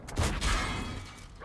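HE shell fired in a tank video game from an LT-432 light tank: a single sharp booming shot with a heavy low thump, followed by a fading rumble and mechanical rattle, no speech.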